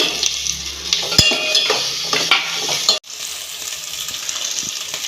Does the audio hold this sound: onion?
yes